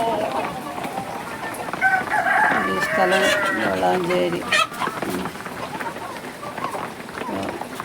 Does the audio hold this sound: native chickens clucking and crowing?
yes